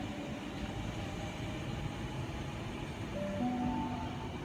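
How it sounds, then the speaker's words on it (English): A Sydney Waratah electric train rolls into platform 4 at Glenfield station, heard as a steady low rumble of wheels and traction hum with a faint rising whine, moderately distant and without speech. "We have a Waratah arriving onto platform 4 from Parker service."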